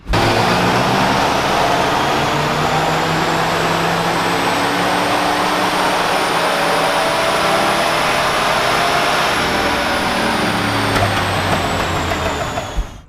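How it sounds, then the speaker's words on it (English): A 1979 Fox Body Mustang Cobra V8 runs on a chassis dyno, a loud, steady engine roar with a slowly rising pitch that holds throughout and then drops off abruptly at the end, with no voices. "this is the lowest horsepower V8 that I've ever dynoed and that our dyno has ever seen"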